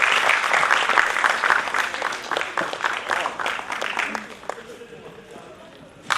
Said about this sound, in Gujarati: જોરદાર તાળીઓથી વધાવશો મિત્રો.